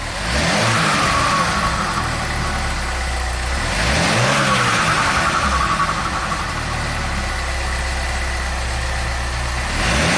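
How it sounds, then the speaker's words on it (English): Chevrolet HHR SS Turbo engine revved repeatedly near the car, rising and falling in pulsing surges over a steady idle, loud and alone without talk; the car has a reduced-power condition. "Let's rev it up."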